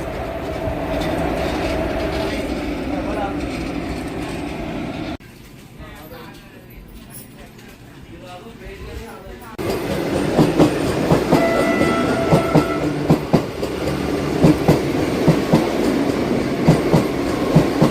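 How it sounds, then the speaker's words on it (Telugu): A train pulled by twin locomotives rolls in reverse nearby, its wagons giving a rumbling clickety-clack that grows louder and busier toward the end after a quieter middle stretch. Voices talk over the rail noise. "ఎందుకే రివర్స్లో వెళ్తుంది చూడండి. ఇది ట్విన్ లోకోమోటివ్స్ తోటి."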